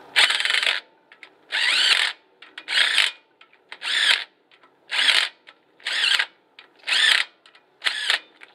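A ratchet wrench turns brake bolts on a Chevy C30 in eight bursts of rapid clicking, each about half a second long with short pauses between, close and loud.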